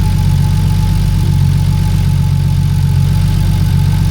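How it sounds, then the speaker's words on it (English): A car engine idles steadily inside a garage full of GTR parts, a loud, even low rumble that holds without change for several seconds, with no talk over it. "Look at that engine, man."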